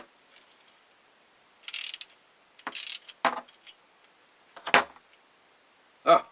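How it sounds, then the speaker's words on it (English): Short ratcheting clicks from a hand ratchet working on a Glock 48 pistol sight screw, several brief separate bursts of clicking at close range in an otherwise quiet room. "I brought a ratchet with me just to make things easier."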